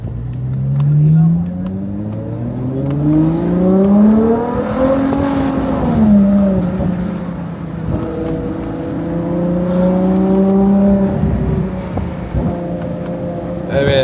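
A Ferrari 812 sports car engine with a V12 drones steadily and loudly, pitch rising and falling through revs over a constant cabin roar, heard from inside the car with no clear talk.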